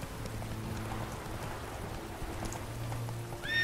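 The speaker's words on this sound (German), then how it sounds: "es regnet übrigens schon wieder, Gewitter, Donner, Blitz" Steady rain falls in the Witcher 3 game world, a dense continuous hiss with low rumbling tones underneath and a brief brighter sound near the end.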